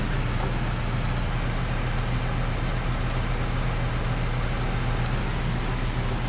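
A tractor engine idles in Farming Simulator 19, giving a steady, unbroken low drone throughout with no change in pitch.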